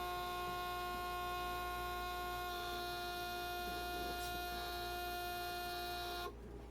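A booster pump fills a big-bore airgun from air tanks, giving a steady mechanical drone with strong tonal hum and a whine layered over it, running constantly before stopping abruptly near the end.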